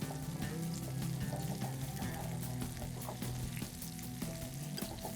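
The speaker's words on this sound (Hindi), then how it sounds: "इसको हम थोड़ा सा मिक्स कर लेते हैं ताकि ये सब तरफ से अच्छे से फ्राई भी हो जाए" Garlic stir-fried in a hot pan for a dragon chicken and stir-fry pasta dish: continuous busy sizzling and frying, with scraping and stirring clatter throughout, fairly close and steady, with no talk.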